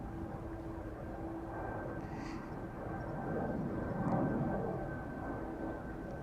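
Ryanair jet departing for Dublin, a faint distant engine rumble swelling slowly and peaking near the end, steady and alone with no talk.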